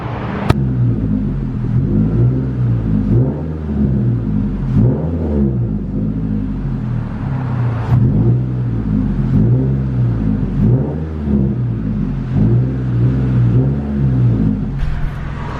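A Scion tC 2.5 with aftermarket exhaust cruising through town, a steady low rumbling drone that swells and eases with light throttle changes, heard from inside the car with no talk.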